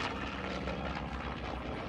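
A warbird aircraft roars overhead at an airshow at EAA AirVenture Oshkosh, its loud, steady propeller engine drone filling the air with no voices.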